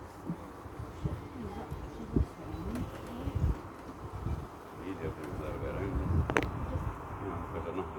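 Scottish native honeybees, a dark strain, buzz around an open hive in Kincardine, a steady close insect hum with people talking over it throughout.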